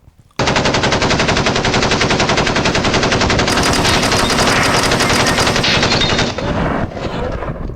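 A machine-gun sound effect bursts in abruptly and fires continuously in loud, rapid, evenly spaced shots for about six seconds, tapering slightly at the end, with no talking over it.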